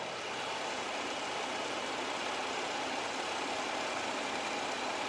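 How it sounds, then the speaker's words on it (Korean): A BMW 740Li inline six-cylinder engine idles at a steady, even rumble for the whole stretch, close and constant with no voices. "바로 엔진 소리 한번 들려드릴게요"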